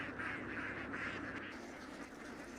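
A large flock of domestic ducks foraging in flooded rice paddy fields in Thailand, heard as a faint, distant, continuous chorus of overlapping quacks without talk.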